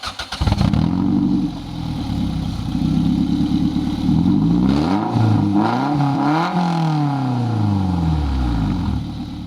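A Toyota MR2 Spyder fitted with a cat pipe and header exhaust starts up and revs repeatedly, loud and close, with rising and falling engine pitch across several throttle blips.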